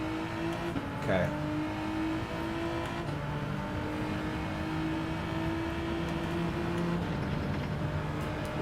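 Race car engine in the Gran Turismo 7 driving game holds a steady droning note with slight pitch shifts, one brief rev swell near the start, continuous and fairly loud beneath light background noise.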